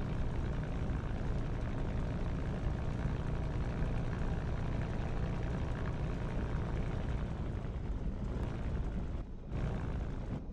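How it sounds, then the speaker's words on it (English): Jet aircraft taxiing toward the runway in Digital Combat Simulator, a steady loud low engine rumble and whine running throughout with a brief dip near the end. "All right, we're gonna just taxi over to the runway now."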